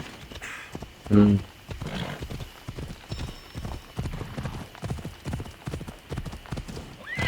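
Horse hooves clip-clopping steadily during a ride, a regular rhythm of close, distinct strikes throughout, with a brief shout of voices near the start.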